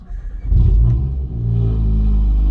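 A tuned Hyundai i20N with intercooler, tune, resonator delete, muffler, downpipe, intake and GPF delete, its engine revving close and loud, then holding a deep steady drone.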